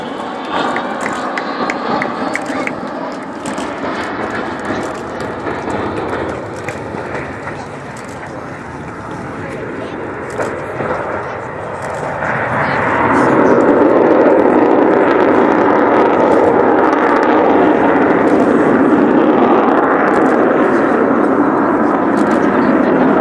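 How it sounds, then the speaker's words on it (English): The Avro Vulcan B2 bomber XH558 performs a flying display at Southport Air Show; a loud, dense jet roar fills the air and swells sharply partway through, then holds at full power. "here she is, your Avro Vulcan B2 XH558"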